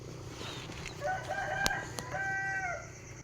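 Rooster crowing twice on a farm, a drawn-out cock-a-doodle-doo followed by a second, with faint background hens and ambient noise, no talk.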